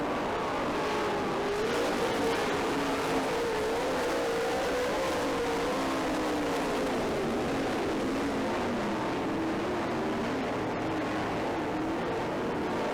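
Dirt track race cars in a heat race roar continuously, a dense wash of engine noise with revving pitch swings from the pack strung out around the oval, loud and steady throughout.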